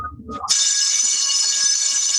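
After a brief muffled moment, an alarm abruptly starts buzzing with a loud, steady, high-pitched electronic tone that holds continuously to the end.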